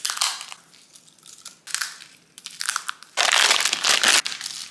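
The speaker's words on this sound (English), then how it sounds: "I take some mini pretzels and I crunch them up" Mini pretzels being crushed up as a sweet-and-salty topping for Greek yogurt, giving several close, loud bursts of dry crunching and crackling, ending in one long, dense crush.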